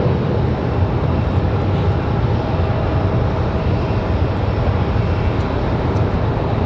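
Boeing 737 MAX 8 arriving from Houston at Raleigh-Durham airport, a broad steady jet roar filling the air throughout at a constant loud level.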